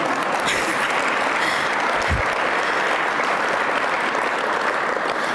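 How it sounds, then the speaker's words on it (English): Steady, dense applause from an awards ceremony crowd in College Park, continuing evenly throughout at a fairly loud level with no talk over it. "I'm going to pause for applause"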